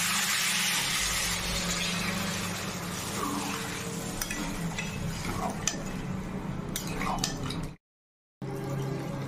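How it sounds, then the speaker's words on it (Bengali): Broth poured into a pot of cauliflower and rohu fish curry, with steady stirring, sizzling and the clink of a utensil against the pot throughout, then a brief cut of silence near the end. "এখন ঝোল দিয়ে দিচ্ছি"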